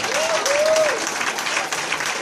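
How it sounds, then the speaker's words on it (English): A crowd applauds loudly and steadily after a magic trick at a comedy magician's show, with a brief cheer-like voice rising over the clapping. "Big round of applause for Derek, ladies and gentlemen."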